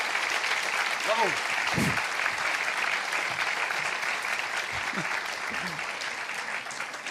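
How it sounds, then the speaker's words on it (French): A seated audience at a business school masterclass applauds a guest speaker, continuous broadband clapping throughout with a few faint voices and cheers mixed in. "je crois que vraiment on peut l'applaudir"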